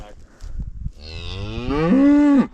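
Cattle being moved to summer pasture, one cow letting out a single long, loud moo close by, rising and swelling before cutting off abruptly, with faint rustling beforehand.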